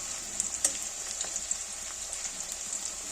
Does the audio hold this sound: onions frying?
yes